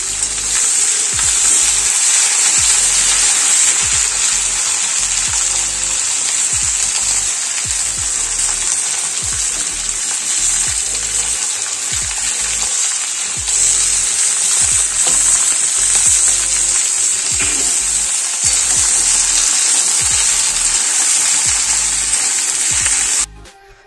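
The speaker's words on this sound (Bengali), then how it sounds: "সবগুলো এক এক করে আমরা ভাজতে দিয়ে দিচ্ছি" Potatoes and vegetables frying in a pan for a Bengali mustard-poppy seed mixed vegetable curry, giving a loud, continuous close-up sizzle with occasional stirring scrapes throughout, and no voices.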